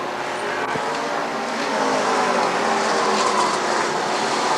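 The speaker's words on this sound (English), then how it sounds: "All these cars coming into the pits." Race cars at Rockford Speedway roar steadily as they come into the pits during the 1994 ARTGO 300, a loud continuous engine drone with no pauses.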